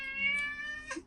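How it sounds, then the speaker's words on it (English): A pet cat meows once, a long clear tonal call held for about a second, close to the microphone with no talk over it. "Oh, that's my cat. He's having needs right now."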